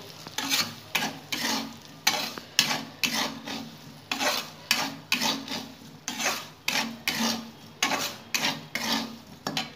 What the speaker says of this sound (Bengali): সুজিটা দিয়েও ভালো করে নেড়ে নেব।